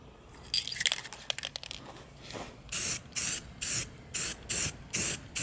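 Paint is sprayed onto a wall art piece in a string of short, even hissing bursts, about six in a row, after a few light clinks and rattles. The sound is close and clear.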